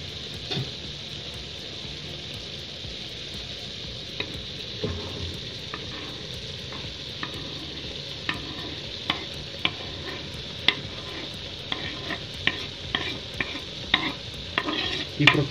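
Softened peppers with garlic and tomatoes frying for a Hungarian bograch goulash, a steady low sizzle in the pan broken by a stirring spoon's light scrapes and taps that grow more frequent toward the end.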